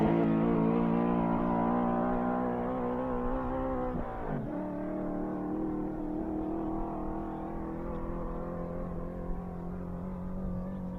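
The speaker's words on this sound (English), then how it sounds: "I'm going to shut up and let you listen to the engine." A land speed race car engine roars steadily on a record run at a speed week event, a loud sustained drone with a brief dip in pitch partway through, no talking.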